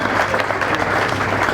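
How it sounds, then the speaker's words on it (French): Audience at a charity gala applauding, dense continuous clapping from many hands filling the short moment. "Est-ce qu'on peut applaudir bien fort?"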